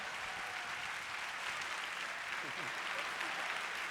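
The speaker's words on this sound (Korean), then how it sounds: "un aplauso muy grande a todos los jucumeros que están en el mundo viéndonos ahora" A large audience applauds at a leadership conference in Korea, a dense, continuous roar of clapping that stays steady and full throughout, with faint voices mixed in.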